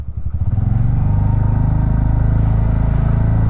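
A TVS Ntorq 125 scooter, a 2021 BS6 model, ridden through a tight turn, its small engine humming close and steady with a pulsing low drone that rises slightly as it pulls around.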